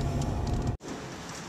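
Steady rain falls at night during a stormy spell in Kamakura, a dense, even patter that fills the space, then cuts out abruptly midway before resuming more softly.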